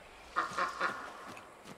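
A white duck in the video game Lost Ember gives three quick nasal quacks in a row, followed by a couple of fainter calls, set against quiet game ambience.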